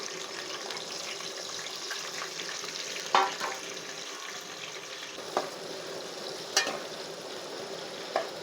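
Onions and green chilies fry in oil for a village-style brinjal and chicken curry, a continuous close sizzle broken by a few sharp utensil knocks and stirring scrapes, no one speaking.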